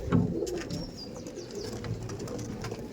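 Punjab pigeons kept in a loft give low, throaty coos in a brief close burst, followed by soft continued murmuring and faint chirps against a busy background.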